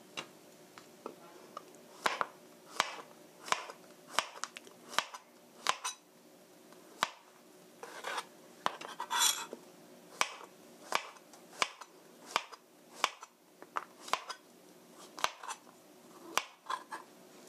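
Knife slicing button mushrooms thinly on a cutting board, a steady series of crisp, close taps roughly every half second to second, quiet, with no talking.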